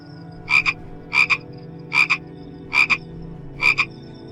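A green frog croaks alone in five evenly spaced double calls, each a pair of quick bright croaks repeated steadily at close range over a faint background.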